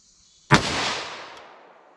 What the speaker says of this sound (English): I'm just going to try to get one shot over this chronograph